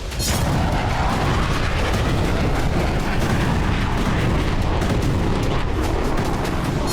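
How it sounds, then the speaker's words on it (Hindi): Heavy explosions from an Israeli air strike on a Hezbollah weapons depot in the city of Hama: a loud, continuous roaring rumble with crackling bursts that holds steady throughout, with no voices. "जबरदस्त विस्फोट की ये तस्वीरें भी हामा शहर की हैं, जहां इजरायल ने एयर स्ट्राइक कर हिजबुल्ला के हथियार डिपो को तबाह कर दिया।"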